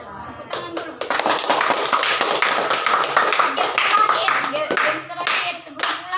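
A classroom of children claps their hands together in a burst of many quick, overlapping claps, loud and close, with a pause partway through before the clapping picks up again, while voices chatter underneath.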